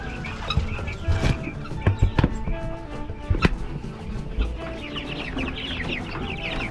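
Brahma chickens cluck and squawk in an early-morning coop, several close, irregular calls over a light background rustle with faint chirps.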